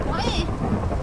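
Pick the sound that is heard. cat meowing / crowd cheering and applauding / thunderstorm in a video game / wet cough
thunderstorm in a video game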